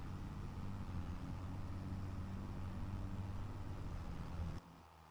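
A tractor engine in Farming Simulator 25 drones steadily at a low pitch for about four and a half seconds, then cuts off abruptly.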